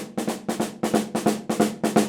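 Drums play a lilting swung groove, hits falling in long-short pairs with a triplet feel, punchy and close, cymbals ringing over each stroke.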